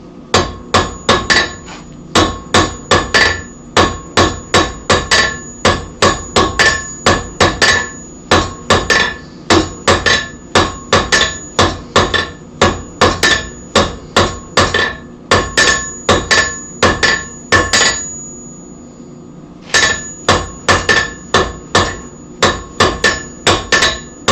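A hammer strikes a chisel again and again in steady bursts of sharp metallic blows, loud and close, with a brief pause partway through before the pounding resumes.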